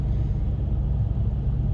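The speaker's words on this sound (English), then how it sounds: "My reefer just kicked on back on the trailer, so you're gonna hear some buzzing in the background" A refrigerated trailer's reefer unit runs behind a truck, giving a steady low buzzing rumble that holds level and fairly close throughout, with no voices.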